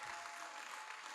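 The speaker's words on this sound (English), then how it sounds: "Clap them." Graduation audience at a preparatory school ceremony applauding the students, a steady, even wash of clapping through the whole moment with no voices standing out.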